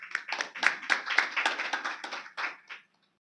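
Hands clapping at a devotional bhajan gathering, a short run of close, fairly rhythmic claps for about three seconds that then stop abruptly, no talking.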